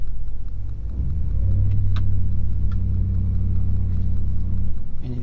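A Dodge Ram 1500 pickup's engine rumbles deep and steady as it climbs off road in four wheel drive auto, the revs rising slightly, with faint knocks and creaks of the truck over rough ground.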